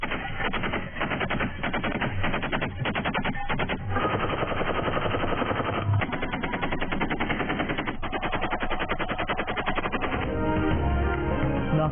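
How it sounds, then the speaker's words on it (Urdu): Gunfire from an armed bandit shooting into the air at a wedding celebration in the riverine area of Ghotki: rapid, sustained automatic bursts rattle continuously and loudly for the whole stretch, with dense overlapping shots. "مسلح ڈاکو نے ہوائی فائرنگ کر کے منایا"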